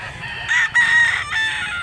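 A rooster crows in one drawn-out call that breaks off and resumes, loud and close, at a chicken sale in Cebu, with no voices over it.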